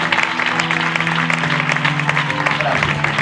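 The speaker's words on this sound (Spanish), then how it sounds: "Le das un aplauso al Señor," Church congregation applauding in worship, a dense steady clapping throughout with sustained tones and voices mixed underneath.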